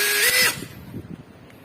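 Makita cordless drill in drill mode driving a screw, a loud whirring motor burst for about half a second, then cutting off into quieter low knocks and handling noise.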